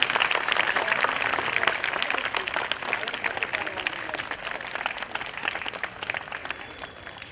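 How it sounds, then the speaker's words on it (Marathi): Sustained applause from a school audience thanking parents at a school anniversary celebration, dense steady clapping that holds throughout and tapers slightly toward the end. "जोरदार टाळ्या वाजवून आपण त्यांचं आभार मानूयात"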